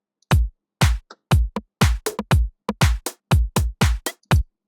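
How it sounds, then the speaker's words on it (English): A deep tech electronic drum kit plays a tech house pattern, with punchy kicks on a steady four-count pulse and lighter snappy hits between them, crisp and close with no talk. "Currently, it is set to a deep tech kit, which sounds like this."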